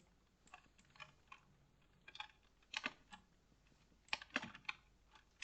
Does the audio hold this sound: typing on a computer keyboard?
yes